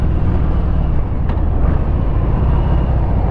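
A Harley-Davidson Deluxe motorcycle rides along, its engine a loud, steady low rumble mixed with dense wind and road roar throughout, with no speech.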